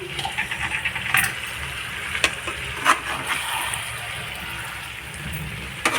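Chicken being sautéed in a pan, with a soft steady sizzle and frying hiss broken by occasional sharp scraping stirs, fairly quiet and close.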